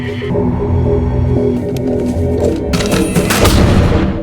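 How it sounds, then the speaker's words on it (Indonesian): Film soundtrack with loud booming gunfire, dense heavy blasts rolling over a low rumble, ending in a sharp burst of crackling impacts; the firearm is a shotgun. "Kristen hanya mendengar suara tembakan shotgun."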